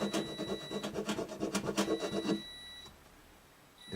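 Rhythmic rasping strokes of a file on the nut of a Martin D-28 acoustic guitar, about a dozen quick back-and-forth scrapes close up, then quiet room tone with a faint steady tone.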